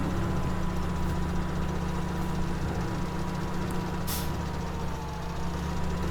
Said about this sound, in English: Let's see how well this tractor does.